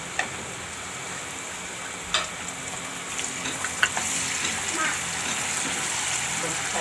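Onion and tomatoes frying in a pan as part of a green-bean vegetable dish, a steady broadband sizzle with occasional soft clicks and stirring knocks, fairly quiet and continuous.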